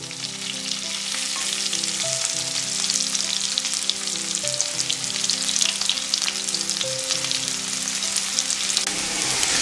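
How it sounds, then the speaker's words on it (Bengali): Diced potatoes fry in oil with a loud, continuous sizzle that holds steady throughout, while soft music plays faintly underneath. "ডুমো ডুমো করে আলুগুলোকে গোল্ডেন ব্রাউন করে ভেজে নেবো আমি"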